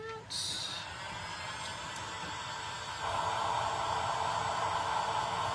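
A hair dryer blows steadily and close by, drying a paint touch-up on a St Patrick's Day house DIY kit, a constant airy whoosh whose tone shifts slightly partway through.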